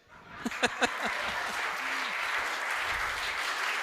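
Audience applause at a Hindi comedy poetry show: a few distinct near claps open, then dense, steady clapping from the crowd fills the rest at moderate level.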